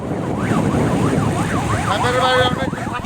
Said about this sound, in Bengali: চোদ্দ জন পুলিশ সদস্য সাইরেন বাজিয়ে এই মহড়ায় অংশ নেন